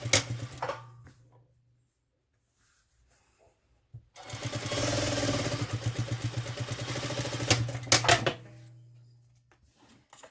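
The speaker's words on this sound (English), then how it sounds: "you can sew that closed." A domestic sewing machine stitches a fabric face mask's turning pocket closed, running in a steady burst of rapid mechanical clatter for about four seconds, then a few short stitches after brief silence.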